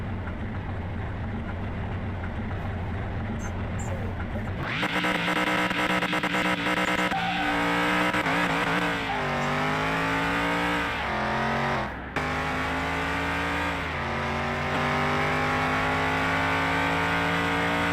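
Ford F-100 shop truck in Car Mechanic Simulator 2021, its engine idling then revving and accelerating through several gear changes, pitch rising and dropping steadily and loud throughout with no talk.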